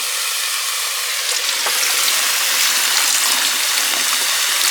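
Beans rinsed under running water in an off-grid homestead kitchen in Portugal: a steady, fairly loud hiss of flowing water, continuous throughout with no talk.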